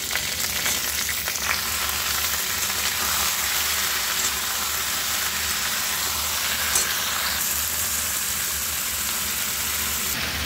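Mustard seeds tempering in hot oil in a pan for a tomato pickle, a steady close sizzle with faint crackling and popping throughout, no talking.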